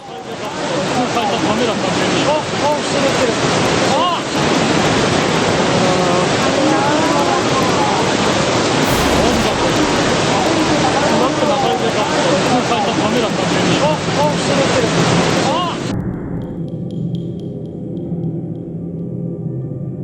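Running water churns after a tsunami, a loud, continuous rushing roar of flowing water and wind that drops off sharply near the end, with faint voices in the background.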